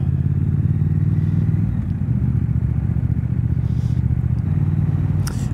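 A Triumph Speed Twin 1200 motorcycle engine idles and putters steadily at low speed in slow traffic, a continuous close rumble with faint traffic noise around it.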